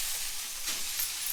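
Tempering for poha sizzles hard in a hot pan, a loud continuous hiss of frying with small crackling swells, close by and without any voices.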